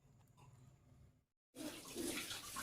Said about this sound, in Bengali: সব মাছের আঁশগুলো ছাড়িয়ে এখন এই যে ভালো করে ধুয়ে নিচ্ছি একটা একটা করে